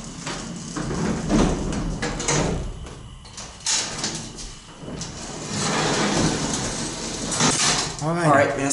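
Gated freight elevator doors in a campus building at UT Austin roll shut with sustained rumbling and rattling, a few clunks along the way, while people talk briefly nearby.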